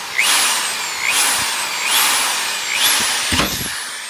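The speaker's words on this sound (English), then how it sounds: "I'm going to try to drill it out a little bit" A power drill whines in short repeated bursts, its pitch rising and falling with each push as it bites into a sheared-off metal car antenna screw.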